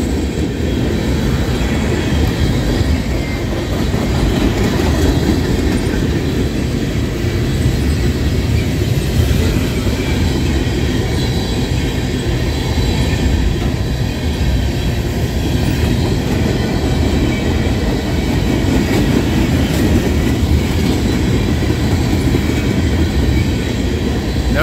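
A long Norfolk Southern freight train led by locomotive NS 4002 rumbles steadily past at close range through Creighton, Pennsylvania, a continuous heavy roar with faint clicking of wheels on rails, no letup throughout.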